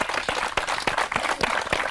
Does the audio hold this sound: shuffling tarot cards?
no